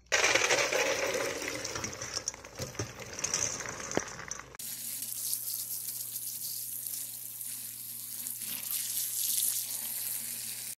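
Running tap water splashes and rattles over beans in a sink, shifting to a steadier hiss of flowing water with occasional clinks.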